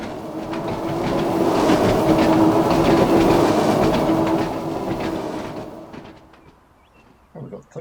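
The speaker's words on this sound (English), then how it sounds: "Here's a train." A train rumbles past on tracks in Train Sim World 2 on the Isle of Wight, a loud, steady clattering roar with clickety-clack that swells for several seconds, then fades quickly into quiet with a few faint clicks.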